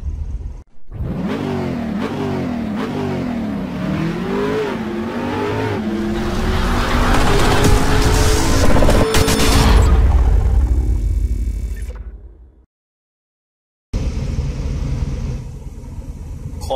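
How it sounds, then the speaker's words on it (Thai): A Mazda 626 Cronos engine fires up and revs repeatedly, rising and falling in a series of loud, rough surges that build to a sustained roar before cutting out abruptly, then idling again after a short silence. "รีสตาร์ทรถอยู่นะครับ"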